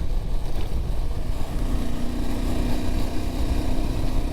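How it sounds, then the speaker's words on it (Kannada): A steady motorcycle engine drone runs throughout, with a rough low rumble and a faint airy whoosh of the air filter drawing in air layered over it, continuous and fairly loud. "ಏರ್ ಫಿಲ್ಟ್ರದು ಸೌಂಡ್ ಫೀಲ್ ಆಗ್ತಾ ಇದೆ."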